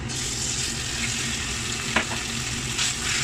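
Sliced marinated chicken breast fries in hot coconut oil in a pan, a loud, constant sizzling hiss with a couple of sharp pops or utensil knocks, no speech.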